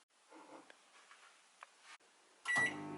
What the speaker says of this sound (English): Pop that in the microwave.